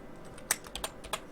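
Keystrokes tapped on a computer keyboard, about five separate clicks spaced irregularly, close and fairly quiet, with no voices.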